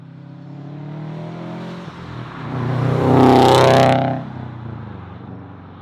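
A Subaru fitted with an Invidia downpipe revs up, its raspy exhaust climbing to a loud peak for about a second before falling back to a steady idle, with no talking.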